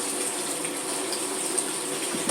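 Water trickles and splashes steadily through a siphon linking two plastic bins in a budget DIY aquarium sump, a continuous soft gushing flow with no voices.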